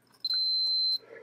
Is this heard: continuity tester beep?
yes